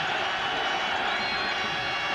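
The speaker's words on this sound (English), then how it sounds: "Crowd now rising." A football stadium crowd at a 2000 CFL East Final in Montreal roars and cheers as one continuous wash of noise, distant but dense and fairly steady.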